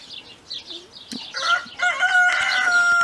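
A rooster crows loudly nearby, its long drawn-out call rising after a few short clucks and scratchy sounds.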